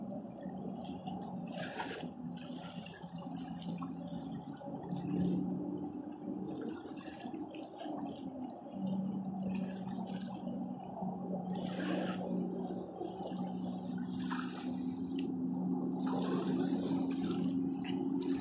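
A motor boat runs on the water off a Florida beach, its steady low engine drone carrying from a distance beneath continuous wind and surf wash.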